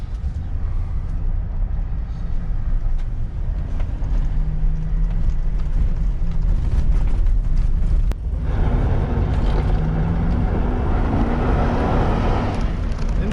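A wrecked Chevrolet Suburban Z71 idles steadily at close range, a low continuous engine rumble with a faint whine, briefly interrupted near the middle before resuming.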